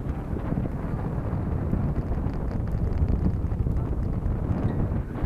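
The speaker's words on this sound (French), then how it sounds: "le vent vient comme ça et donc il va m'aider à éloigner le bateau du rivage" Steady wind buffets the microphone with a continuous low rumble, loud and unbroken throughout, with no voices, in a bay on the Greek island of Syros.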